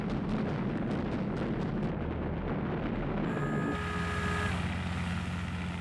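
Old wartime footage of US bombers attacking Japanese carriers carries a dense, continuous roar of explosions and rumbling blasts, loud and booming throughout, shifting partway through toward a droning engine-like tone.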